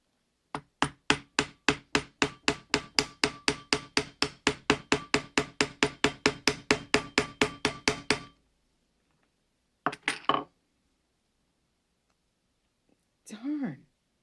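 Dense run of about thirty sharp, evenly spaced hammer blows on leather, loud and close, stopping abruptly, followed by a short scraping rub and brief talk.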